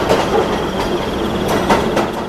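A train runs along the rails, with a continuous rolling rumble and periodic clacking bursts from the wheels close by, and no voices.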